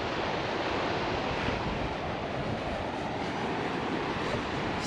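Ocean waves wash steadily onto a beach at Bodega Bay, California, a constant loud roar of surf with no distinct breaks, heard alone without talk.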